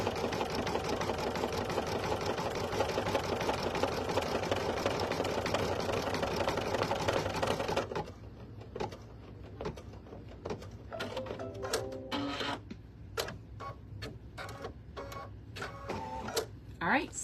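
An embroidery sewing machine runs satin stitches in an appliqué design, a steady close whirring hum for about eight seconds, then quieter mechanical clicks and rattles follow with a person talking.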